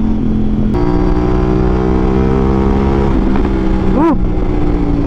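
A 2024 CF Moto 800MT adventure motorcycle engine runs loud and close, holding a steady idle tone before being blipped, with a sharp rev rising and falling about a second before the end.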